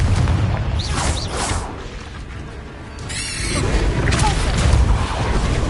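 A Confringo spell blast in the Hogwarts Legacy game lands as a loud, booming burst followed by crackling, crashing debris over dense game ambience, with a second swell of rumbling impact noise.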